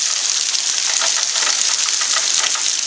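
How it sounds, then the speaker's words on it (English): Heavy rain pours onto a dry bag laid out in a storm, a loud, constant hiss of dense droplets with fine crackling patter, close by and steady throughout, with no voices. "Very heavy rain right now."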